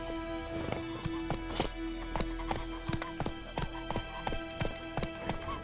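Hooves clip-clop at a steady galloping rhythm as the horse Roach runs in The Witcher: Wild Hunt, loud and close over a constant low hum of game ambience.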